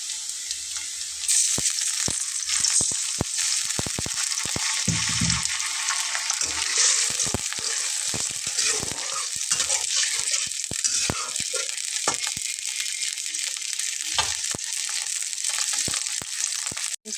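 Onions sizzle steadily in a hot pan while a Bengali fish and cauliflower curry is being cooked, a bright continuous frying hiss with occasional stirring clicks and scrapes, close and with no talk.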